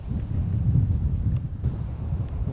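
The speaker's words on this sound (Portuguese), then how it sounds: "O vento também aqui é intenso" Strong wind buffeting the microphone on a beach on the coast of Ceará, Brazil, a steady low roar and rumble that fills the clip without pause, with no voices over it.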